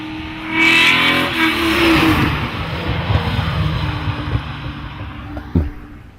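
A 1969 Maserati Ghibli 5000 SS sports car engine revs and accelerates loudly and close by, with a roaring drive past that fades into a steady rumble, then one sharp knock near the end.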